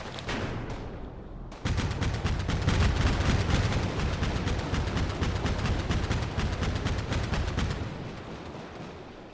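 Rapid, dense bursts of gunfire and cannon booms rattle continuously in a loud battle din after a brief quieter opening, in the war video game Combat Mission.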